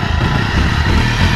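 A motorcycle engine rumbles loud and close in a steady, throbbing drone, running continuously without a clear rev or pause.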